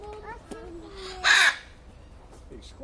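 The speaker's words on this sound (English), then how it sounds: "It's squawking." A large parrot at Paignton Zoo lets out one loud, harsh squawk, with quiet voices of visitors around it.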